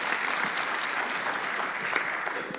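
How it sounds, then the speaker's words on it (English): Audience at a LinuxKit conference talk breaks into applause, a short, dense burst of clapping filling the room at moderate level with no speech over it. "one round of applause for Justin and Rolf"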